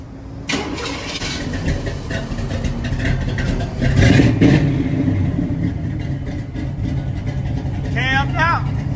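A cammed, LS-swapped Chevrolet Caprice engine is being revved, its rough idle rising into louder rev swells near the middle, with people talking close by over the exhaust.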